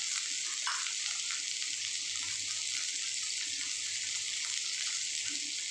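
Ground ginger paste sizzling in a hot pan, a soft, continuous hiss with faint stirring, quiet and unaccompanied by speech.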